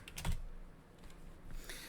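A few quick keystrokes on a computer keyboard while entering a password, soft close clicks in a short burst with a brief pause, no voices.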